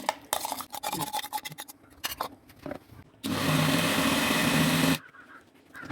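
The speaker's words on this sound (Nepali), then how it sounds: "सेलाएपछि यसलाई म मिक्सरमा पिस्छु।" Electric mixer grinder blitzing roasted whole spice masala for paneer butter masala, a loud steady whirring burst of about two seconds following scattered knocks and rattles as the jar is set up.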